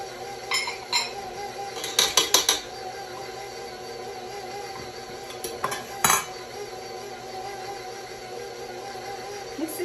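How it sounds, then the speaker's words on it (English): A utensil stirs and scrapes cookie dough of flour and milk in a bowl, with bursts of sharp clinks and knocks against the sides separated by quieter stretches. "Mix this up a little bit more."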